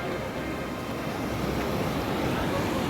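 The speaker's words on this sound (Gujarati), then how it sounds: "પાણીનો ઓગન ફૂલ ધોધ વહી રહ્યો છે અહીંથી" Floodwater gushes over a full dam spillway at Khirsara village in Kutch after heavy rain, a steady, loud, broadband roar that continues unbroken with no voices.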